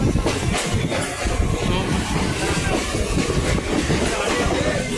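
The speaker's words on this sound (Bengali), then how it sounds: "শিয়ালদায় ঢুকবে ট্রেন" A train pulling into Sealdah station in Kolkata, heard as a steady, broadband rumble of rolling wheels and carriages with faint clatter, loud and continuous throughout, with indistinct voices mixed in.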